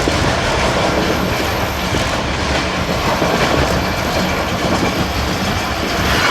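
A passenger train rumbles steadily along the scenic line near Haripur while crossing the Jaffar Express, with continuous clickety-clack of wheels over rail joints and a loud, close roar throughout.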